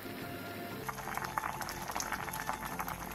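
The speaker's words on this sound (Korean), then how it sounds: "물이 끓어오르면 중약불로 줄여 15분 정도 더 끓여주세요." Soup water at a full rolling boil in a pot, a dense steady bubbling and burbling that runs without pause, close and fairly loud, with no voices.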